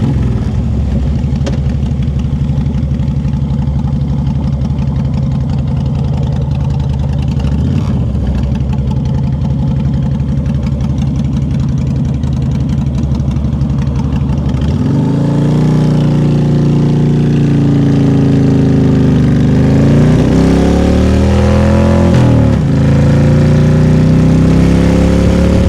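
A Honda VTX 1300 motorcycle engine idles with a low, steady rumble, then is revved several times, each blip climbing and falling back in pitch, loud and close.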